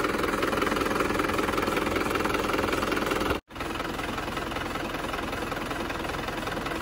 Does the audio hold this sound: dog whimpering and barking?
no